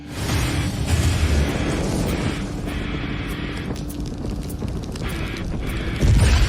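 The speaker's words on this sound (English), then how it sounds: "I'll pull it out, quench it in the oil, just to show you how this looks" A hot steel warglaive blade plunged into quenching oil at a forge gives a loud, continuous roaring sizzle and bubbling rush that holds steady for several seconds, surging again near the end.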